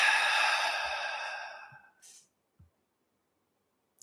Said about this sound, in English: I want you to take a second and first exhale